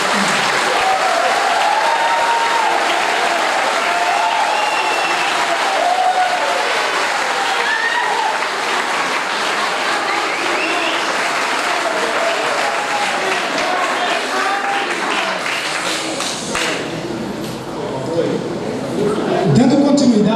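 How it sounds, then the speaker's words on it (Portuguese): An audience at a municipal election debate forum held by a commercial and industrial association in Grajaú, Maranhão gives long, sustained applause, with voices and crowd murmur mixed into the steady clapping. "Eu peço a todos que deem uma salva de palmas a vocês."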